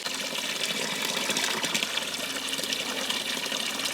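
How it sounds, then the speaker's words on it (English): Water gushes continuously from a spout nearby, a steady splashing hiss without any pauses or speech. "That is town water coming out."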